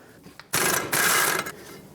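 A socket wrench works a rear brake caliper bracket bolt on a 1997-2001 Lexus ES300, making a loud, close burst of rapid ratcheting clicks that lasts about a second.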